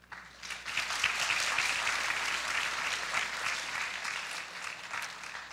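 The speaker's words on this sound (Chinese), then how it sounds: "掌声欢迎" An audience at a university creative-thinking lecture series bursts into applause that swells quickly and holds as a steady, moderately distant clatter of many hands before easing off.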